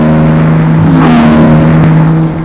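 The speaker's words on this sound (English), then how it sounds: "the colossally deep boom that erupts dominates all around the car" Porsche 911 GT2 RS Weissach package with a titanium, nearly straight-through exhaust booms deeply and loudly as it accelerates hard, engine note rising and falling briefly with a gear change, close and with no talking.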